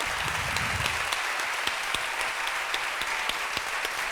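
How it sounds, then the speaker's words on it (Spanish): Audience applauding authors Dolores Redondo and César Pérez Gellida at the Blacklladolid literary event, steady dense clapping throughout with scattered sharper claps, close and loud. "Un fuerte aplauso para ellos"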